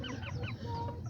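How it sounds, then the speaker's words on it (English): Chickens cluck quietly in a few quick, close bursts over a low farmyard rumble. "And then the chickens too."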